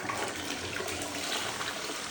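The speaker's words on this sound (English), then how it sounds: "then I'm gonna flush it again" A toilet flushes while a cleaning brush is rinsed in the bowl, a steady rushing and gurgling of water that stays close and continuous throughout without speech.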